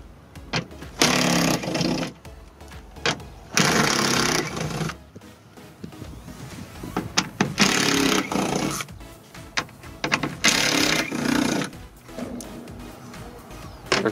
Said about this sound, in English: 10 millimeter socket, and start removing a few bolts.